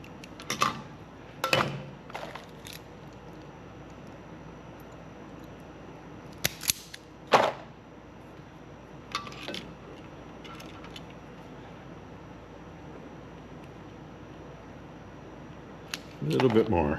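WAGO lever wire connectors clamp onto stranded wire in a woodshop with a few sharp, close snapping clicks, some in quick pairs, separated by long quiet gaps.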